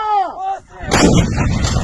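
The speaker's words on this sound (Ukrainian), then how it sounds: "Гармата!" Artillery cannon fires once with a heavy, loud boom and rolling blast, preceded by a brief tonal sound, during combat near Izium in Ukraine.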